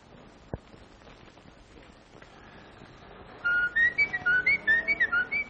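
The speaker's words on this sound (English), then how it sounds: "just blow a few notes of reveille" A short series of clear whistled notes in a bugle-call rhythm, loud and close, following a quieter stretch with a brief knock.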